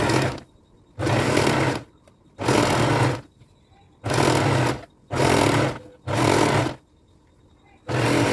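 A sewing machine stitches a blouse lining in seven evenly spaced bursts of about a second each, loud and close, separated by short quiet pauses with no talking.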